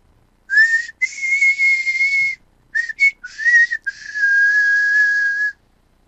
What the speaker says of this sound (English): I don't see what the big deal with the throat whistle thing is.